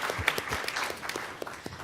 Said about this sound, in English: So a round of applause to Bonnie.